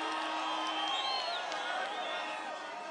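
A large outdoor crowd at a Kenyan presidential political rally in Githunguri, Kiambu County, cheering and whooping loudly and continuously, with shouts rising over a steady roar.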